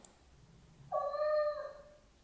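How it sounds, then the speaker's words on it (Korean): A single kitten meow, high and drawn out with a rising then falling tone, heard alone against quiet background. "고양이가 아주 어린 고양이는 어떤 소리가 나는지 한번 잠깐 들어볼게요"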